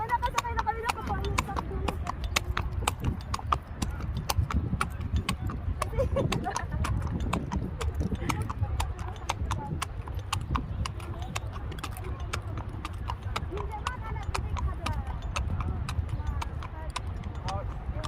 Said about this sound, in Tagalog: Ayan, nakasakay na kami ng kabayo.